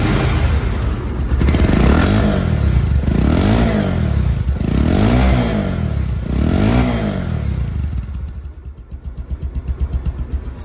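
A used Bajaj Pulsar One Disk motorcycle engine runs close by, revving up and down in four or five surging pulses with a rattly, clattering edge before settling back to a steady lower rumble.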